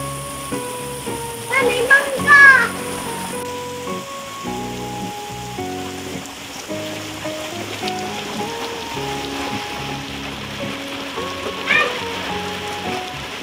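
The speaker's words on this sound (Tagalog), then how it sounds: "Lakas yung ulan." Heavy rain pours down on a flooded house, a steady, dense wash of falling water that runs throughout, with brief voices and tonal background sounds over it.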